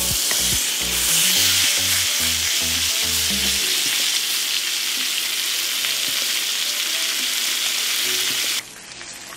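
Pork chops sizzle steadily in a pan with a dense, close, loud crackling hiss. A few heavy thumps come early on, and the sound drops abruptly near the end.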